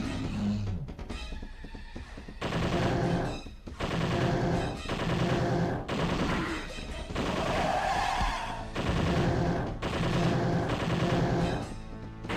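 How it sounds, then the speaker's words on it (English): Machine gun fire in a Sega Dreamcast video game, loud sustained bursts of rapid automatic shots repeating in long stretches with short pauses between them. "Now I have a machine gun."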